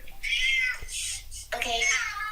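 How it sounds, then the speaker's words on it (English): A pet cat meows several times in a row, close and clear, with bright drawn-out cries during a phone call for a podcast. "Oh, that's my cat."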